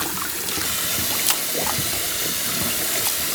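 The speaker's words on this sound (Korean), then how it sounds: "이제 넣어 넣고 흐르는 물에 찬물로 씻어야 됩니다." Cold tap water runs steadily over webfoot octopus being rinsed in a kitchen, a close, even trickle and splash with faint handling sounds and no talk.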